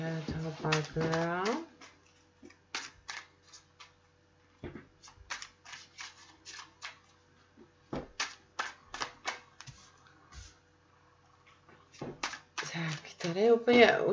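Tarot cards are shuffled and drawn, giving a series of crisp flicks, snaps and soft taps spread unevenly across a quiet room. Someone speaks at the start and again near the end.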